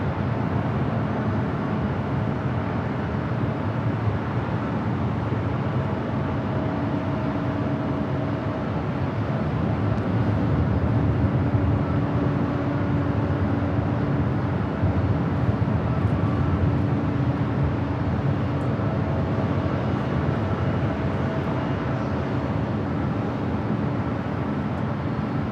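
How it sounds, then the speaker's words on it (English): A China Southern Cargo Boeing 777 freighter takes off from Los Angeles LAX, its jet engines a steady, broad roar heard from a distance with no voices. "This is China Southern Cargo 2512 taking off to Shanghai on the 777 freighter."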